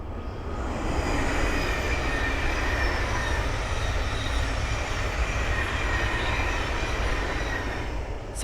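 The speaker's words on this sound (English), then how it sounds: "the next train to pass by is a Thameslink 700 from Bedford to Brighton" A Thameslink Class 700 electric multiple unit from Bedford to Brighton passes at a trackside lineside spot, a steady loud rumble of wheels on rails building up and holding for several seconds with faint squeal, no talking.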